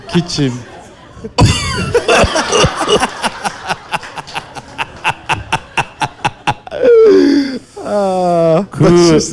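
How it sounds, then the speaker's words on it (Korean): A person coughs in a rapid string of sharp, repeated bursts, then breaks into groaning, laughing vocal sounds at the end. "기침해봐, 기침."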